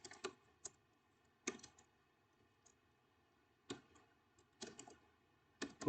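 Quiet computer keyboard typing while writing stack code, with sparse clusters of key clicks separated by pauses, close and faint in an otherwise silent room.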